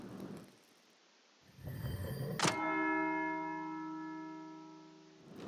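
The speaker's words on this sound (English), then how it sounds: "That's the bell for Sext." A monastery bell rings for Sext in the medieval game Pentiment, a single loud struck toll after a dull thud, its long humming resonance fading slowly over soft ambient background.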